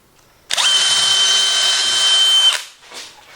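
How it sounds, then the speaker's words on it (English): A power drill whines at a steady high pitch for about two seconds as it bores quickly into pressure-treated wood, then winds down, loud and close. "this is drilling really fast just because it's pressure treated wood"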